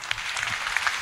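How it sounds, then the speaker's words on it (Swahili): A congregation claps briefly during a Kikuyu thanksgiving church service, a short burst of scattered hand claps at moderate distance. "Makofi kwanza."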